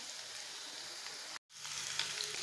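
Chopped ginger, garlic and green chili sizzle in hot oil in a kadai, a steady bright frying hiss that cuts out briefly and then returns.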